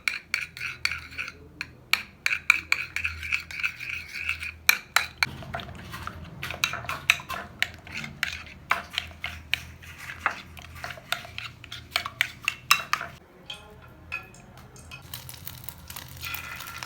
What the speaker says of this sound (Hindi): अब इसे अच्छी तरह मिक्स करते हैं